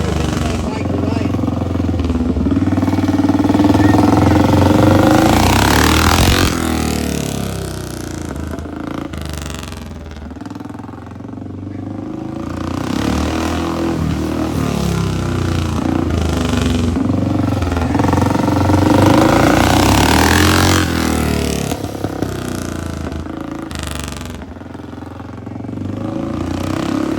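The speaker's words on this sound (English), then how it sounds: "This is the Derek's bike" Rickman Metisse motorcycle engine running loudly and close at a motorcycle museum event, a steady rough roar that rises and falls with revs over the whole stretch, with no talk.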